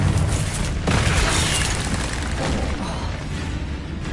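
A Confringo blasting spell in a Harry Potter video game erupts as a loud, close booming explosion, a dense rumbling roar that flares early and stays heavy for several seconds without fading.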